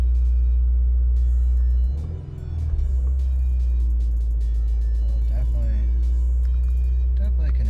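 A 2015 Subaru WRX fitted with a Cobb intake starts up with a brief cranking burst, then settles into a loud, steady low idle rumble close by, with a voice talking over it.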